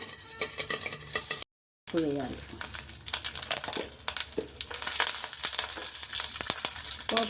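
A tempering of mustard seeds, dried red chillies and curry leaves crackles and sizzles in hot oil while being stirred, with dense popping and scraping close by and a voice speaking briefly over it.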